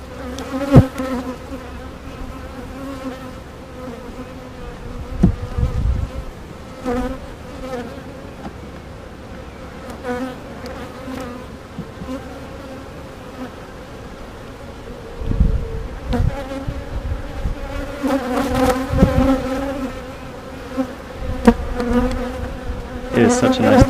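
Honeybees buzzing steadily around open hives during a sunny outdoor inspection, a dense continuous hum close by, with occasional knocks and handling noises that grow busier toward the end.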